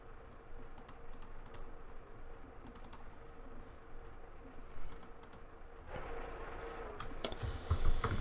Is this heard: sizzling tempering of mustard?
no